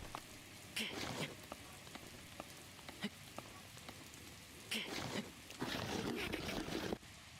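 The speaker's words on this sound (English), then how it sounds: "Can it, like, stop raining?" Rain falls in the video game Zelda Breath of the Wild, a steady soft hiss of game rain under bursts of other game sounds and effects, with no talking.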